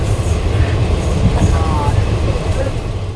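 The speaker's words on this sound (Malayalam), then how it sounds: "ദേ വന്ദേ ഭാരത് വന്ദേ ഭാരത് ഷൂ എന്ന് പറഞ്ഞിട്ട് ദേ പോവാണ്" Vande Bharat high-speed train rushing past with a loud sustained roar and rattle, a brief squeal partway through, voices faint underneath.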